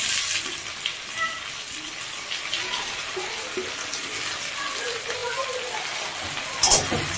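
Spices and ginger-garlic paste frying in hot oil for a chicken keema dish, a dense continuous sizzle with crackling close by, steady throughout with a brief louder spatter near the end.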